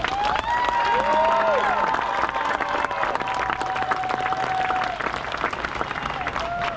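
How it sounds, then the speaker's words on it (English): A crowd at a Newark senior night applauds for their coach, steady sustained clapping filling the room for several seconds with some cheering mixed in. "So, big round of applause for her."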